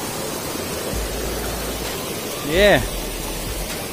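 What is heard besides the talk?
waterfall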